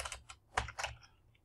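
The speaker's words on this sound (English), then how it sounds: "I'm typing random text" A few soft, uneven taps on a computer keyboard, close up and quiet, with short gaps between the keystrokes.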